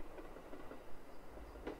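A steady train rumble with faint clickety-clack rolls on in the horror game Yurei Station, a continuous low hum with soft rhythmic rail knocks and no talking.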